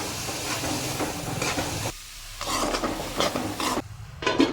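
Green peas roast in oil in a pan, giving a steady hiss and crackle with stirring scrapes, briefly quieting before the sizzle picks up again.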